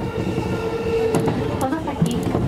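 An E233 series commuter train on the Nambu Line rumbles along the track with a steady low running drone and occasional rail clicks, while an announcement voice speaks over the sound.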